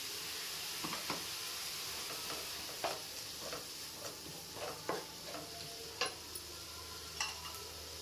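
Homemade masala paste and curry leaves sizzle in hot oil in a pan. The hiss is steady and faint, with a few soft stirring clicks scattered through it and no voices.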